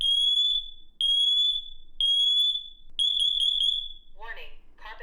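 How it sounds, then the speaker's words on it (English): A combination smoke and carbon monoxide detector sounds its test alarm: four loud, shrill beeps in a steady one-per-second rhythm, close by, followed by a recorded voice warning that begins to speak. "You can test the detector by pressing and holding this button right here."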